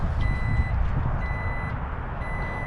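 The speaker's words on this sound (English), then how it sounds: "That's telling you to mind your head." Repeated electronic warning beeps from a 500+ bhp car as its boot closes, in a steady pattern over a low engine-like hum, fairly close.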